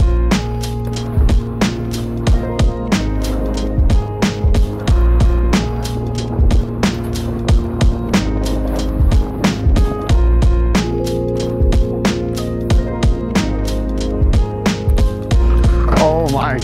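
Adapt Brutale 2022 inline skates roll and grind over a ledge, giving repeated sharp clacks and scraping slides at an uneven rhythm, loud and close, with music playing underneath.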